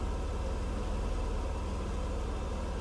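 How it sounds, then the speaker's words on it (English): A 1990s Mercedes-Benz W124 with about 145,000 miles idles smoothly at close range, a steady low engine drone with no other sound over it. "Engine sounds smooth."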